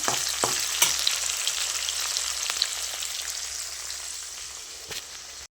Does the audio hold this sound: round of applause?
no